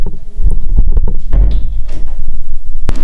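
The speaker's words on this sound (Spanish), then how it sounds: "Cierra la puerta." An indoor door is pushed shut with a couple of solid thumps and knocks, loud and close, followed by a brief sharp click near the end.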